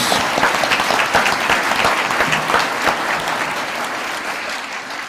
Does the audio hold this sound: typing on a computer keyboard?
no